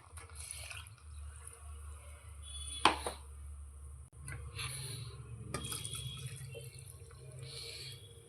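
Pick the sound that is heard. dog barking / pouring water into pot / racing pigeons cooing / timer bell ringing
pouring water into pot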